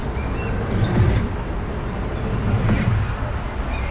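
Rumbling, rushing whooshes of ships launching on an Overwatch map, swelling twice over a steady roar of low noise.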